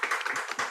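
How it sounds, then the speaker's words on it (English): Panelists clapping in a room, a short burst of dense hand claps from a few people, close and fairly quiet. "There is there is a lot of clapping in this room"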